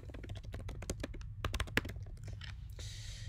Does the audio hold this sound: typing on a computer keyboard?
yes